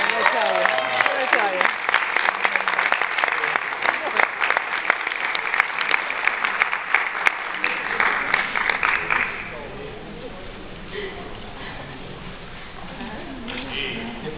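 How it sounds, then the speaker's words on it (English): Audience applause at a South Plainfield High School homecoming pageant, dense steady clapping from a crowd that carries for about nine seconds, then thins into scattered claps with some murmuring. "please have a great round of applause for all the participants in our homecoming"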